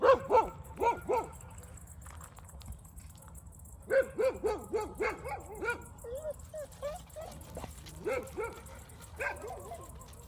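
American Staffordshire terriers Thor and Daisy barking in quick bursts on a street, reacting to a street dog, with yips and whimpers between volleys and someone talking over them.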